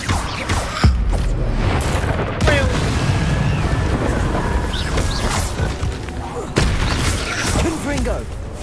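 Spellcasting combat in Hogwarts Legacy with the Descendo slam: loud booming impacts at the start and again near the end over a continuous rumble of effects, with a voice speaking partway through.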